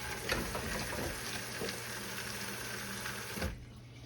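Running water from a kitchen tap splashes steadily over hands at a sink for several seconds, close and fairly loud, then cuts off abruptly near the end.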